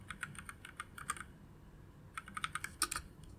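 Soft, quiet keystrokes on a computer keyboard during code editing, arriving in two short uneven bursts of clicky taps separated by a brief pause, with no talking.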